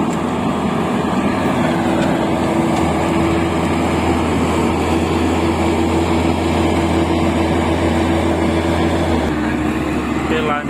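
A rice combine harvester that is putting out smoke revs its engine as it climbs out of a paddy field to move to another. The heavy engine drones loud and constant at close range, with a steady tonal hum.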